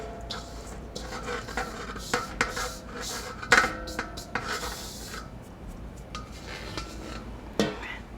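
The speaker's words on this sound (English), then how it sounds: "First, I'm going to take our dry ingredients and just dump them into our bowl." Dry ingredients for vegan gluten-free cheesy biscuits tipped into a mixing bowl, a run of soft rubbing and rasping scrapes with a few sharper clinks against the bowl, close and fairly quiet.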